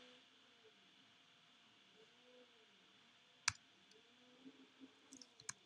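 A computer mouse clicking to highlight items during a design tutorial, one sharp click followed by a few lighter, quicker clicks over a quiet hiss and faint low hum.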